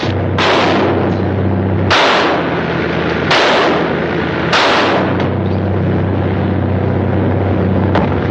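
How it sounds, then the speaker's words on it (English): Gunshots in a 1939 film, four loud, sharp cracks spaced over several seconds, each ringing into a rumbling decay over a steady low engine-like drone, close and dominant with no talking. "Didn't I tell you not to shoot, gentlemen?"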